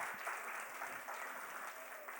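An audience at a live music show applauds, with continuous, moderately faint clapping and some light crowd murmur under it.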